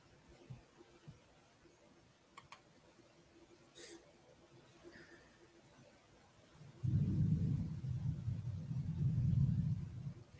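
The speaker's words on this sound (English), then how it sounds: "And we got thundering and stuff here in our section." Deep, muffled thunder rumbles in after a quiet stretch, then rolls on steadily and broadly to the end with no other clear sounds.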